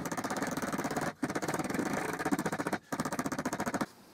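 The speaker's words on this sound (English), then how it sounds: "Now I'm going to try and beat some of the air bubbles out of the concrete." A rapid mechanical buzzing rattle from vibrating wet concrete to knock out air bubbles, a dense fast pulsing in three steady bursts with two short breaks, close and loud, no talking.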